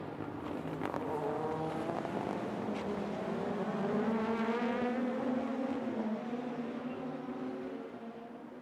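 Super GT race cars at Suzuka lapping in a close pack, engines screaming with rising and falling gear-change pitch, a continuous loud roar that swells as the group passes and fades slightly at the end.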